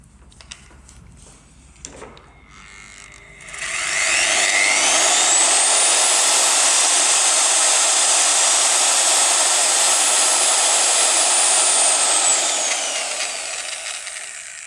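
A Kinty electric paint and concrete hand mixer running in first gear spins up from quiet to a loud, steady high-pitched whirring whine, holds for about eight seconds, then begins to wind down, with no talking.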